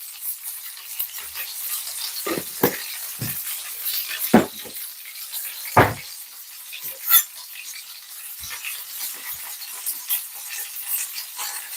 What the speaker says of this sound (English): That sizzling sound is like, it's nice.